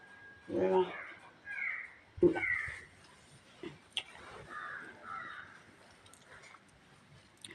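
Crows caw in a few short, faint bursts from a distance, with quiet gaps between the calls and people talking softly nearby.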